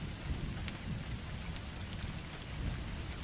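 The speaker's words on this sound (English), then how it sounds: "The rain was falling furiously that night, hammering the roof of my cab" Heavy rain pours steadily as a loud, continuous wash, with low rumbles of thunder rolling underneath throughout, close and full with no voices.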